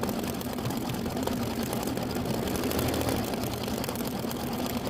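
An embroidery machine stitches a design through tulle and Mylar layers held in a 5x7 hoop, giving a steady, dense mechanical whir with a rapid needle rhythm that runs on unbroken at constant loudness.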